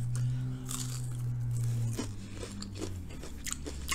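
Someone bites into and chews a piece of Korean pancake close to the microphone, with several crisp crunches and soft chewing over a low steady hum.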